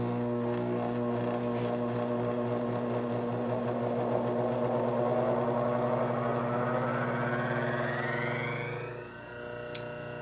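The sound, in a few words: bench grinder motor ramping up, Oneway Vari-Grind with Kodiak platform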